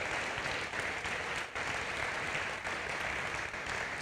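Audience applause at a pastors' and leaders' breakfast, a dense and steady wash of clapping that holds throughout, loud and continuous with no voices.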